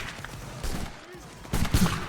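Musket gunfire in a Napoleonic-era multiplayer video game with 95th Rifles, sharp shots bursting around the middle and end of a busy battle soundscape, with players talking over it.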